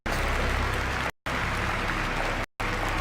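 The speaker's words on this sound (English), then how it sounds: "Everyone's clapping" Applause in the video game Virginia: a dense, steady crowd clapping fills the scene, broken by two short silent gaps.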